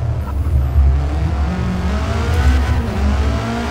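A Honda Civic in the 2023 Forza Motorsport video game launches at full throttle, its engine droning and revving steadily and loudly through the run with no voices over it.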